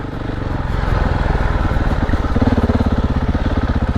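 A KTM 690 enduro motorcycle thrums steadily with a throaty single-cylinder pulse while riding muddy off-road trails, the engine close and loud throughout.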